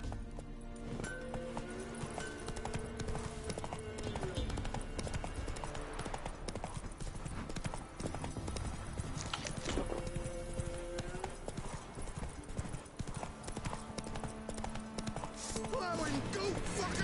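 A horse gallops in The Witcher 3 video game, with fast, steady clip-clop hoofbeats running unbroken throughout while music and voices play over them.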